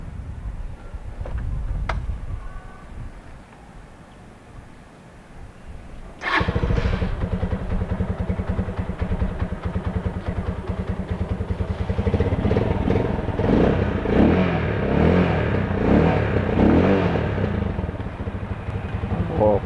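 A 2024 Rusi Flash 150 motorcycle, carburetor being tuned, idles quietly and then is suddenly throttled up, its engine revving loudly and repeatedly in strong pulsing bursts close by.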